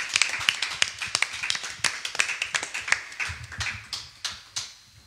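Worship congregation clapping and cheering in praise, a dense burst of sharp hand claps with irregular rhythm that thins toward the end, fairly close and loud, no talking over it.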